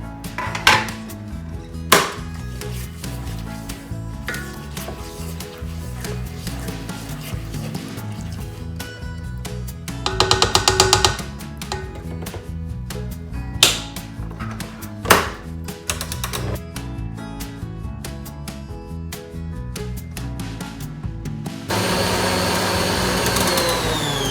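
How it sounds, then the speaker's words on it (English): An electric mixer whirs continuously through brown velvet cupcake batter, with bursts of louder beating, a few sharp knocks against the bowl, and a shift to a higher steady whine near the end. "And I'm going to mix it again."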